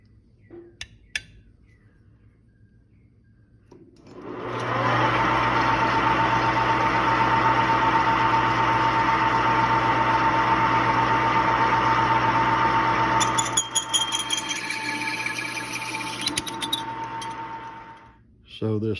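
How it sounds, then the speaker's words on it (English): Lathe spinning up and running steadily with a high whine while a sprinkler escutcheon is cut down, joined near the end by scraping and squealing of the cut before it winds down. "The new escutcheon has to be cut down, so I'm going to chuck it up in my lathe."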